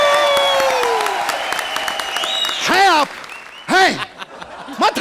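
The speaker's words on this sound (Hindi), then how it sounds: "फिर से जोरदार तालियां" Studio audience on the Indian TV comedy show Comedy Circus breaks into sustained, loud applause with some cheering, while bright sweeping musical stings ring out over the clapping.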